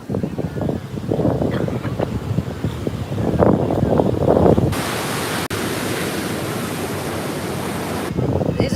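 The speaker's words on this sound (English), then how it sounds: "These are some mild waves that I wouldn't mind surfing in" Mild ocean waves at a beach wash and roll in a steady broadband surf roar, with wind buffeting the microphone and a sudden louder hiss partway through.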